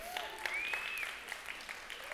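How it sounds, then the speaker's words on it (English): A church congregation claps in a short, soft burst of applause, heard from a distance with a faint whistle-like tone above it. "I hear some clapping"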